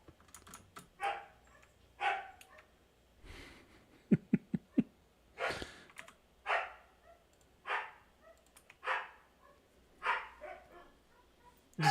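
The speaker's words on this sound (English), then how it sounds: "Oh, my wife's got the dog riled up." Dog named Camille barking excitedly in a living room, a series of sharp, fairly loud barks repeating at a steady pace with brief clicks and taps in between, no talking.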